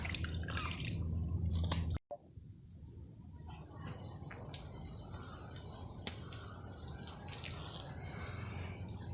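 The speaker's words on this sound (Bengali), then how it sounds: "এখন আমি এভাবে পানি নিংড়ে তুলে নেব।" Washed winter melon pieces, soaked in lime water, are wrung out by hand, giving faint close drips and trickles of water with a short sharp break early on; insect-like chirps linger softly in the background.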